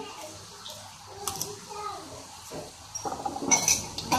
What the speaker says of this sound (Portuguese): Continuar lavando a louça.